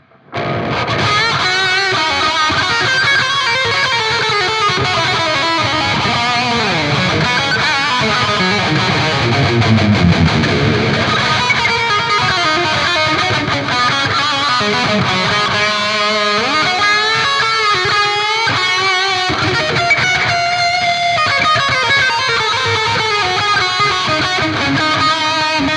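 Electric guitar through the high-gain channel of the STL Tonehub PVY Vector amp plugin plays a loud, dense, distorted metal passage with chords and riffs for about twenty-five seconds, no voices.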